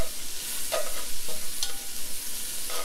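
Onions fry in a pan for a Georgian chicken stew, a steady close sizzle broken by a few scraping stirs of a utensil against the pan, with no voices.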